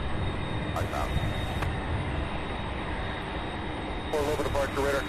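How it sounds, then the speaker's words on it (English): A Boeing 747 at Louisville airport produces a broad, steady jet roar, with radio chatter and a nearby voice cutting in over the engine noise. "And we have another 747, which I believe is the fourth one."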